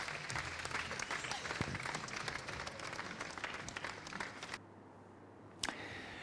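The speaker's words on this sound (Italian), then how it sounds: "Un nuovo lungo applauso accompagna l'uscita del feretro per l'ultimo viaggio di Simona" Long applause from mourners as a coffin is carried out of a funeral, a sustained crowd of scattered clapping heard outdoors and somewhat distant, cutting off abruptly near the end with one last clap.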